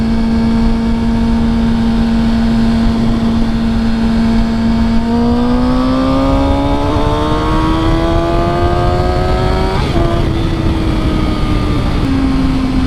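A 600cc motorcycle pulls hard at full throttle in fourth gear, its loud droning engine note climbing steadily in pitch before easing off briefly near the end.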